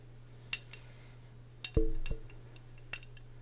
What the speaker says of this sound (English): I have this glass of water perched precariously over my microphone and my computer.